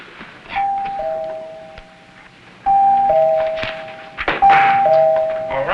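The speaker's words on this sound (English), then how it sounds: "push the bell" A doorbell is pushed and rings in a sitcom setting, two-tone chimes sounding three times at spaced intervals, each ding-dong ringing out clearly, with soft thumps and shuffling between presses.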